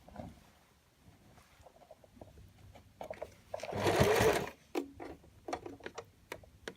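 A sewing machine runs back stitches on a shirt cuff, a steady mechanical whirr swelling for about a second amid quieter ticking and clicking handling noises nearby.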